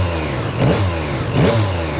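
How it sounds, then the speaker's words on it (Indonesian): A Yamaha MT-09 SP naked bike with an 890cc three-cylinder engine revs twice in quick succession, close and loud over a steady idle, each blip rising and falling sharply. "Respon geberannya itu tergantung dari riding mode yang dipakai teman-teman."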